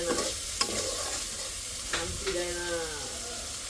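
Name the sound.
fish being stir-fried in a pan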